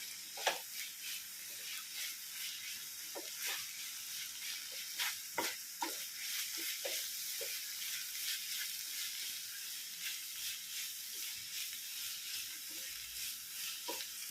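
Spiced mutton keema is stirred in a pan under a steady, close sizzle, with frequent scraping spoon strokes clicking through the frying throughout.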